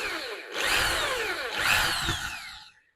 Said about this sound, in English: I'm going to drill the holes first.